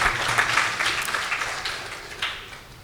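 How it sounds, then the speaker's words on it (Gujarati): A devotional katha gathering's audience claps together, a brief burst of scattered hand claps that softens and tails off over a few seconds. "એ બદલ આપણે એક વખત તાળીઓથી વધાવીએ"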